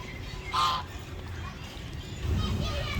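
Ducks at a zoo water park in Kathmandu give a couple of faint, distant honking quacks over low outdoor background noise.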